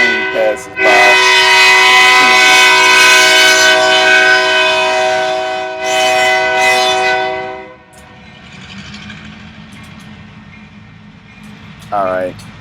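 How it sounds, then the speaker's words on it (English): A train rolls past nearby with its horn blaring in long, loud blasts that cut off and fade to a low rumble, followed by a short final horn burst while a voice speaks. "I'm gonna wait until this train passes by."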